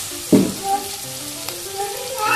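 Spices and chilli powder sizzle in hot oil for an okra and toor dal curry, a sharp burst of frying near the start easing into a steady low crackle with light stirring.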